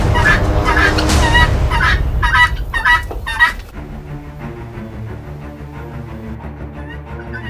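Several chickens fighting squawk and cackle loudly in an agitated burst, then the commotion drops to quieter background clucking and rustling.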